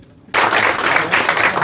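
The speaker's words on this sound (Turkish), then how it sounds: "Alkışlar az geldiği için yavaş geliyor." Wedding guests applauding the groom, a sudden burst of dense clapping after a quiet moment, loud and sustained from a nearby crowd.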